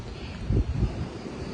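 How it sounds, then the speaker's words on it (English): Gusty wind buffets the microphone in low, rumbling bursts outdoors at an oceanview resort in Cancun, with no voices. "Pretty windy and gray."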